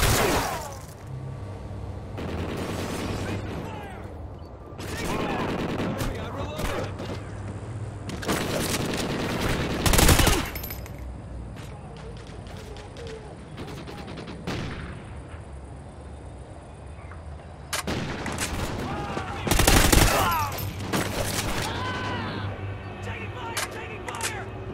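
Gunfire in the video game Call of Duty: Ghosts, bursts of rifle fire and loud booming explosions in repeated volleys over game music and announcer voices, with a character calling out during the fight.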